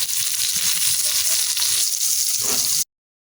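Steady hiss and crackle of pointed gourd frying in hot oil in a pan, loud and close, running continuously before cutting off abruptly.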